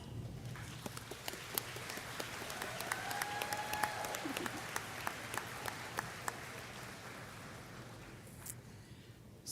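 Commencement audience applauding at Midland University's undergraduate ceremony, a steady wash of many hands clapping at moderate distance, with scattered louder individual claps standing out throughout and no talk.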